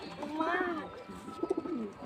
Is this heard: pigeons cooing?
yes